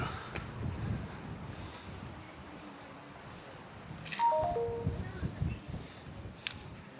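Gusty wind buffets the microphone in low rumbling surges on a dam embankment in the Nelliyampathy hills, swelling midway, with faint outdoor background.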